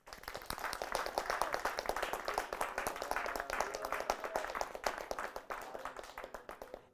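A live studio audience claps for two bands in an even, sustained round of applause that stays fairly faint and steady throughout.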